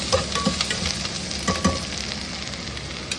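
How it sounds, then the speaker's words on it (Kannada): Tomato and fresh mint fry in a pan for mutton sambar, giving a steady close sizzle broken by several clinking stirs of a spoon against the metal. "ಫ್ರೈ ಮಾಡ್ತಾ ಇರೋಣ."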